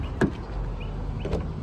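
Power door locks on a pearl red 2008 Toyota RAV4 Limited AWD actuating, two brief mechanical clunks about a second apart over steady background hiss, with no talking.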